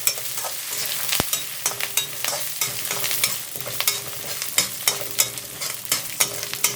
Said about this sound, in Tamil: முந்திரி பருப்பு, கொஞ்சமாக வேர்க்கடலை. இந்த பொன்னிறமாக வறுத்து